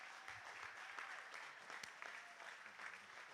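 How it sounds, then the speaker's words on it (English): Audience applause at a live boxing promotion event, steady clapping from a crowd that sounds somewhat distant and faint, with a few sharper claps standing out. "Please give him a round of applause."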